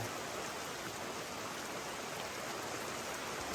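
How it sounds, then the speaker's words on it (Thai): Heavy rain pours hard onto a leaking house roof in a mountain valley, a steady dense hiss of downpour filling the whole stretch with no voices. "ฝนตกกระหน่ำแรงมาก ๆ เลยนะครับ"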